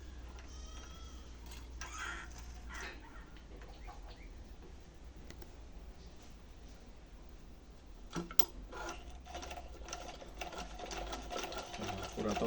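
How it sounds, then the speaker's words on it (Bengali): A sewing machine runs with an old bobbin installed, stitching steadily for several seconds with a faint, continuous mechanical whir and light clicks. It is quiet and heard on its own, with no talking. "এখন সেলাই করে দেখবো সেলাই সুন্দর"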